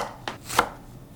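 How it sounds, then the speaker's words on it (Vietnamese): Knife cutting green onions on a cutting board, two distinct crisp chops about a third of a second apart, quiet and close in a calm kitchen. "Hành lá thì mình cắt khúc phần đầu hành."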